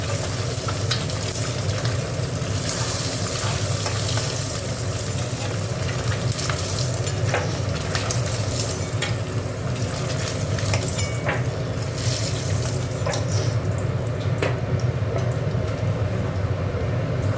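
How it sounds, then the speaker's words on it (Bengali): Potatoes fry in hot oil with a loud, steady sizzle that runs continuously, broken by occasional stirring clicks and utensil taps, with no talking. "আলুগুলো ভেজে নেব"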